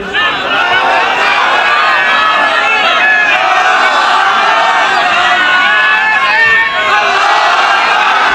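A large crowd at a Ramadan religious sermon roars out a takbir in unison, loud and sustained shouting voices that fill the space with a brief dip near the end.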